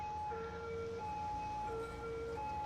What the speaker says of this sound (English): I'm hearing phones ringing and ambulances and water features.